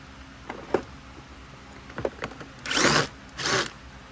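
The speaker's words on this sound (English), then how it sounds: "with the Phillips screwdriver, you have two screws that hold the back on here" A Phillips screwdriver working screws out of the back of a Dirt Devil Endura Lite vacuum: a few short scraping clicks and squeaks, then two louder rasping bursts near the end, close up with no talk.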